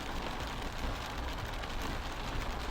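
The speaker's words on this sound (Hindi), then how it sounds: "तो ज़्यादा ही तेज़ बारिश है" Heavy monsoon rain drums steadily on a Suzuki Jimny while driving toward a jungle safari, a dense, unbroken near roar with no voices.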